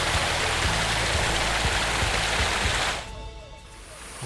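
A small mountain waterfall rushes in a steady, loud broadband roar, then the roar drops away sharply near the end, leaving quieter flowing water.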